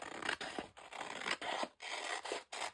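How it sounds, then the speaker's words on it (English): Scissors fussy cutting around the corners of a piece of paper, a series of close, quiet rasping snips in an uneven rhythm of about seven strokes, each one separated by a short pause, with no talking. "I'm going to fussy cut the corners"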